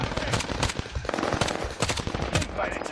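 Rapid gunfire in a shooter video game, with bursts of sharp automatic shots crackling in quick succession throughout and loud, uneven volume.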